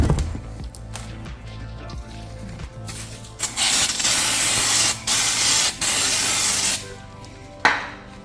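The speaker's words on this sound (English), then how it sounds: "I'm just using brake clean. That's it. A little bit of brake clean." Brake cleaner from an aerosol can hisses loudly in several sustained bursts with short breaks between them, sprayed up close onto the brakes of a BMW E46 M3 during a brake and rotor replacement.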